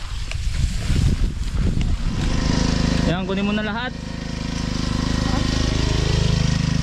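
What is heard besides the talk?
grass cutter engine running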